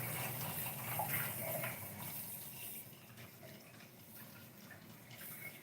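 Hands sweep slowly through dishwater in a kitchen sink holding dishes and knives, giving a soft continuous slosh and swish of water at moderate, steady loudness with no talking.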